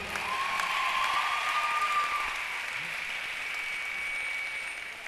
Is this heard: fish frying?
no